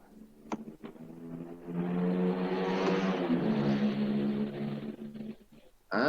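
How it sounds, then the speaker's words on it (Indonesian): Motorcycle engine noise carried through an online meeting call, a steady droning roar that swells for several seconds and fades again, slightly muffled and compressed, with a few clicks at the start and no talking over it. "Terdengarnya tadi suara motor."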